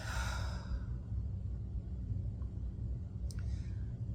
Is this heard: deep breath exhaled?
yes